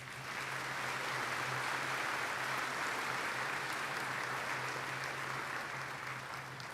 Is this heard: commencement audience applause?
yes